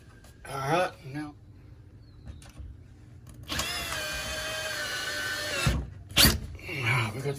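A power drill drives a tiny screw into a Larsen retractable screen's valance in a steady whir of about two seconds, close by, with a short burst of speech before and after.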